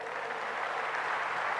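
Audience applause at a Brahma Kumaris memory management talk, a brief, even wash of clapping from a hall crowd, moderately soft and sustained with no pauses.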